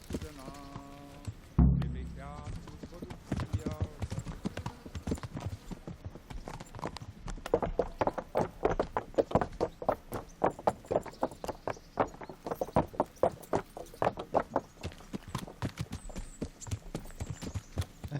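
Steady clip-clop of horse hooves at a brisk walk after a thudding start in the game Kingdom Come: Deliverance, with a voice speaking briefly and light game-like ambience beneath.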